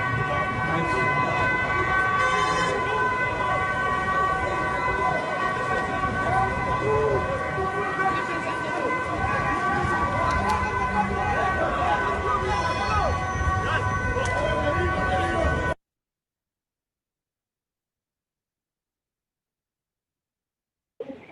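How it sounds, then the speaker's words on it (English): European emergency vehicle siren sounding along Amsterdam streets, a sustained tonal wail amid traffic rumble, with voices speaking over it before the sound cuts to silence. "That kind of siren, different from the American siren."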